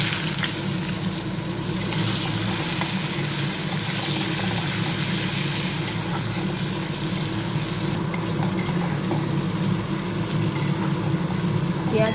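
Sliced onions going into hot oil with whole garam masala, a loud, dense, continuous sizzle and hiss that holds evenly close-up for the whole stretch, with no talking.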